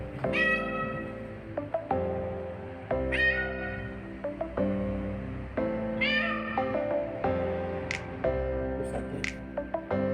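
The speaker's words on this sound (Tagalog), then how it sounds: "Parang naririnig ang pusa dito eh." A cat meows over and over, each cry distinct and fairly close, with short gaps between them.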